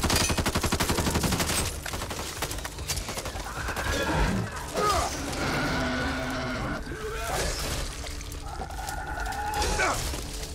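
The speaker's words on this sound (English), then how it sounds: "you can even hear the armor sound on him when you shoot it" Gunfire striking the armored Bruiser in Back 4 Blood, rapid loud shots with metallic armor hits, followed by continuous game noise and effects.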